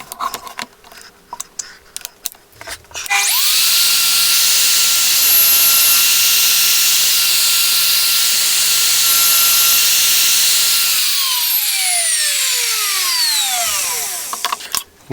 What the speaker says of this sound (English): we've got an 8mm spiral down cut straight bit in there